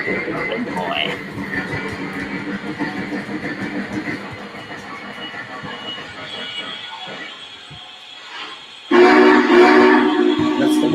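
A Vision Line Big Boy model locomotive sounds its whistle, a loud sustained tone that bursts in near the end over a running rail soundscape, after a stretch of layered train noise and faint voices.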